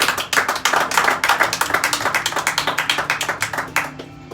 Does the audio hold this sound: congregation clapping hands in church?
yes